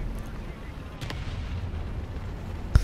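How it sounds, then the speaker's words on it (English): Artillery shells land nearby in a tank video game, with distant thuds early and a sharp loud blast near the end over a low engine rumble. "They're launching artillery over here, and I don't like that."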